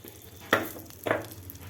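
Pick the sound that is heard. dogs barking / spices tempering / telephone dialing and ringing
spices tempering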